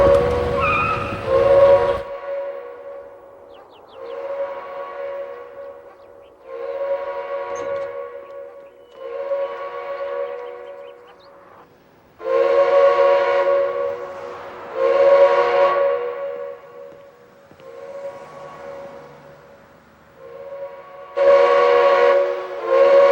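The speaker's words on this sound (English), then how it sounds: "Sound the powerhouse whistle." A prison powerhouse whistle in a film sounds in a series of long, steady tonal blasts with brief gaps between them, loud and resonant, overlapping slightly toward the end.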